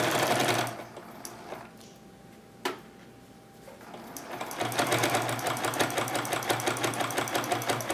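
A sewing machine runs a quarter-inch stitch along the binding of a quilt-as-you-go book cover, buzzing steadily, then pausing briefly before starting up again with a loud, fast, even whir.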